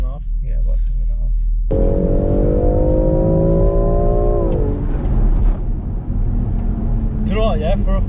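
A BMW X3 M engine revs hard from idle, its rising harmonic note climbing steadily toward high rpm and holding loud and close before dropping off, with a short second rev burst near the end.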